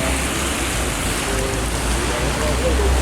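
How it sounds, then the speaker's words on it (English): Steady rain falls at a railway station in Paris, a dense, even hiss of drops on hard surfaces with a low rumble beneath, close and continuous throughout. "I think this rain probably tells a story or so"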